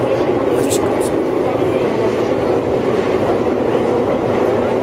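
A train rumbles loudly past Moksan Park at about 100 decibels, a dense, continuous roar and steady rail noise, close and sustained, with faint brief squeals above.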